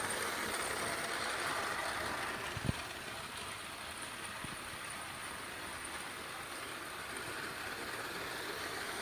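A battery-driven Hornby Junior Express toy train runs along its track with a constant low whir and hum, quiet and steady, with a single faint click partway through.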